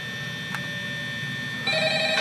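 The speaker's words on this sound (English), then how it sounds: "Now my phone's ringing." A telephone rings in short electronic bursts, quiet at first and then louder, against a faint background hum.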